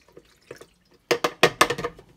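Film processing chemistry is poured into a developing tank in a short run of close, splashy liquid bursts, a few faint drips first and then several louder gushes.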